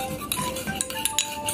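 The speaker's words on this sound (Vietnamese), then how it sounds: "Mình khuấy tan ra cho nó hỗn hợp," A spoon stirs a sugar mixture in a bowl while preparing mooncake dough, giving a run of close, light clinks and scrapes against the bowl with no voices.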